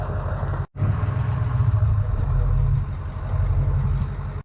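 A truck with a dually front-end conversion drives along with a steady, loud low engine and road rumble throughout, broken by a brief dropout near the start; the tire rubbing is not distinguishable in the drone.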